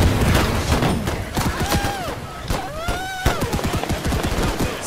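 Dense World War One battlefield gunfire in Holdfast: Frontlines, with rapid overlapping rifle and machine-gun shots, heavy booms and thuds, close and loud, and shouted voices breaking through the din.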